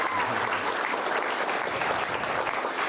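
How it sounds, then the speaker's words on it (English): Steady applause from the crowd at a guide dog class graduation, honouring the puppy raisers, a dense even wash of claps holding at moderate level throughout. "So another round of applause for our puppy raisers."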